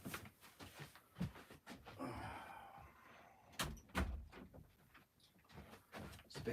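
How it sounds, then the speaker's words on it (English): A door is shut indoors in a cold house in Devon, giving a couple of short, fairly loud thuds amid quiet room noise and small handling knocks. "I'm just going to shut the door."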